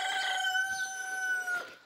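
A rooster crows once, close and clear, a drawn-out call lasting under two seconds.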